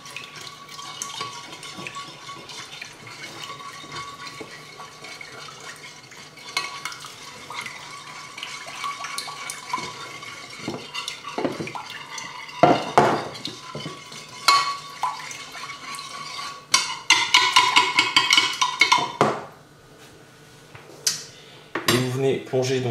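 A utensil stirs lime juice and teriyaki sauce together in a dish, giving close, busy clinks and scrapes against the container with brief watery splashes. The sounds come in irregular bursts, louder toward the end.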